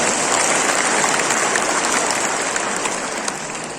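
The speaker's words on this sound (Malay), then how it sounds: "Berikan tepukan." A rally crowd at a Perikatan Nasional Sabah 2020 gathering applauds allies from PBS, producing a broad, steady wash of clapping and crowd noise that holds throughout and fades slightly at the end.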